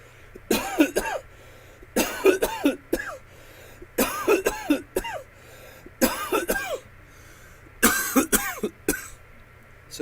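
A person coughs in five separate harsh fits, each a quick cluster of two or three raspy, throat-clearing bursts, loud and close with brief quiet gaps between.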